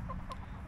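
Backyard laying hens clucking on a winter day, a couple of soft, brief clucks fairly close over a low background hum.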